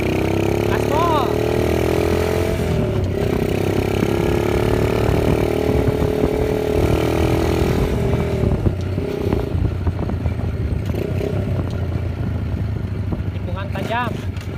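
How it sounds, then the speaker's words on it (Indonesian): A chopper motorcycle's engine runs under hard acceleration while riding fast, a loud continuous rumble with shifting revs and wind noise, and people talk over it throughout. "Bawa kebut lagi John. Gaspol"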